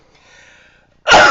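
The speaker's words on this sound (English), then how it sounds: "I'm about to sneeze." One sharp, loud human sneeze bursts out at the end after a faint in-breath, short and close.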